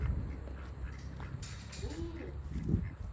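Ducks on a farm kept alongside chickens give a few soft quacks, faint and somewhat distant over low background noise.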